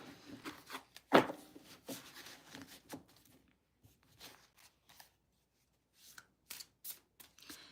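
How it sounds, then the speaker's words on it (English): A deck of playing cards shuffled by hand during a live reading: crisp riffling bursts and shuffles, one sharp louder riffle near the start, then scattered softer shuffles with quiet gaps and no talking. "Shuffle one more time."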